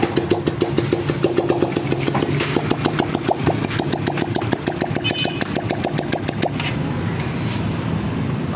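A TMX Supremo motorcycle engine running after a cylinder head gasket replacement, close and loud, a steady rhythmic idle chugging that continues throughout with faint voices underneath.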